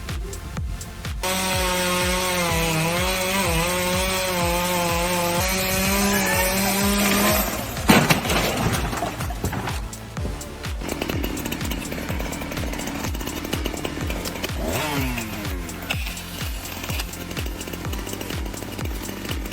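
A chainsaw cuts wood during logging work, its engine revving loud and close with a fluctuating whine for several seconds. Heavy crashes, knocks and rough cutting noise follow.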